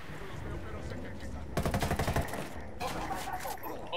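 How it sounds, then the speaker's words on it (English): Bursts of automatic gunfire in Ghost Recon Wildlands, a sharp rapid volley near the middle followed by a second burst, over a low ambient game bed. "Opening fire on these fuckers."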